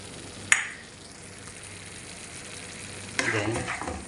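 Spices (paprika, cumin, turmeric) being stirred into an egg shakshuka frying in a pan, a steady sizzle with a sharp utensil scrape near the start and a busier stirring burst toward the end, close up with no talk.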